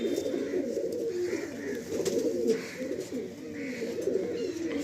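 Several Andhra pigeons coo together in a Kolkata loft, a dense low rolling murmur with repeated phrases, close and steady, with occasional faint higher chirps.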